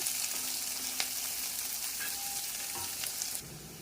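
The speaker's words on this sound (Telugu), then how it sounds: "ఆనియన్ కొంచెం గోల్డెన్ కలర్ రానిద్దాము" Finely sliced onion fries in hot oil for a ridge gourd chutney, a steady close sizzle with occasional soft stirring.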